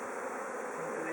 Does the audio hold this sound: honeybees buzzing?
yes